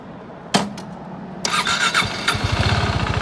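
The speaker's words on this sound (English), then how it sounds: "Has a 373cc fuel-injected single-cylinder engine, 6-speed transmission." 2017 KTM 390 RC with a 373cc fuel-injected single-cylinder engine and an Akrapovič exhaust cranks with a couple of starter bursts, then catches and settles into a loud, close, rapid thumping idle.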